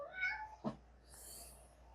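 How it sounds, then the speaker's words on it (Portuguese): A pet cat meowing outside a bedroom door, wanting in: a couple of short, fairly quiet meows close by, followed by a faint hiss of room noise. "Ó, o gato ali, ó. Querendo entrar no quarto, não vai não."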